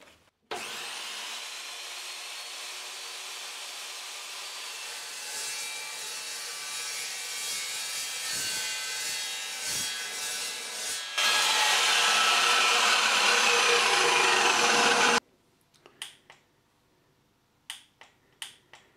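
An Evolution Rage 2 cold-cut saw bites steadily through metal clamped in a vise, a loud sustained grinding whine that grows harsher partway through before cutting off, followed by a few light clanks of handling.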